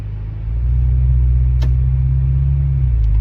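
A 2019-era Acura RDX A-Spec fitted with a Function Werk aftermarket exhaust gives a steady, deep, droning rumble that swells slightly and holds close and loud for a few seconds.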